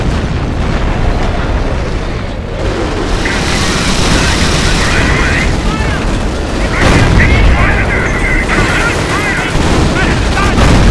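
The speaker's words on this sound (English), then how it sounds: "Commencing barrage" An artillery barrage in Company of Heroes set at El Alamein in 1942 keeps up a heavy, continuous rumble of explosions and booms, with gunfire mixed in and voices heard over the din.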